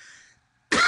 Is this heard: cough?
yes